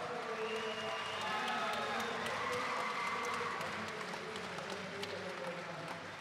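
A crowd at an MMA fight event applauds and cheers in a continuous, distant roar, with an announcer's amplified voice talking over the noise.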